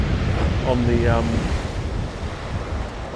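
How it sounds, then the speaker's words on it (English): Sea waves crashing against a harbour arm, heard as a steady loud wash of surf with strong wind noise buffeting the microphone throughout, a faint tonal sound briefly rising above it. "What I want to do is try and capture the waves as they crash up."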